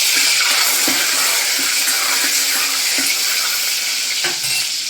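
Garlic and curry leaves fry in hot oil for black urad dal, giving a loud, steady, close sizzle with a few soft knocks of stirring.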